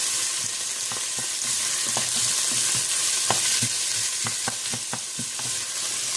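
Ginger and onions sauté in a pot for chicken bachoy, giving a constant oily sizzle punctuated by repeated sharp scrapes and knocks of a spoon stirring, with nobody speaking.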